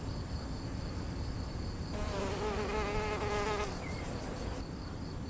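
Close buzzing of a mason bee (Osmia) rises over a steady outdoor hiss for about two seconds midway, a harmonic drone that fades back into ambient insect sounds.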